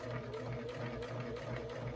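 A sewing machine backstitches a bag seam with a low, steady, close mechanical hum and soft rhythmic pulsing throughout a short run.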